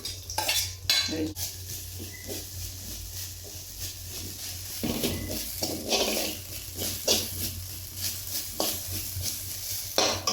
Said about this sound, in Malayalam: ഇനി ഇതിനകത്തോട്ട് അല്പം എണ്ണ ഒഴിച്ച് തേങ്ങ ഇട്ട് നല്ലപോലെ വറുത്ത് കോരി